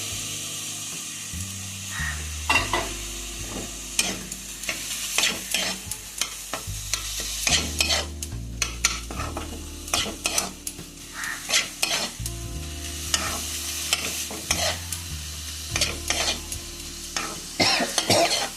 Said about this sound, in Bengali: সবজিটা জল শুকনো অবধি আমি করবো